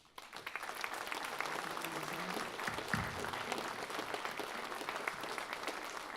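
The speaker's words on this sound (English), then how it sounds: "So please give all of the family and friends supporters of these students a round of applause." An audience at a Doctor of Education commencement and hooding ceremony breaks into sustained applause, a dense wash of many hands clapping that swells quickly and holds steady without speech.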